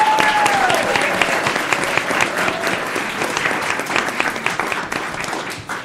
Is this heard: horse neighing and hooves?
no